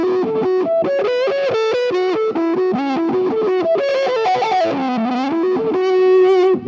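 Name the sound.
electric guitar through the other side of a dual wah pedal in Fractal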